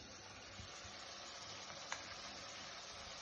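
Dry spices, chili, coriander and turmeric powder, sauteing in a hot pan for a lentil dal, giving a steady soft sizzle with a faint stir or clink midway, close and alone without talk.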